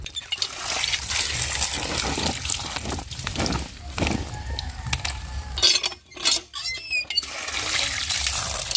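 Water trickles and splashes steadily while an ash gourd is washed outdoors, with a few faint clinks and short pauses in the flow.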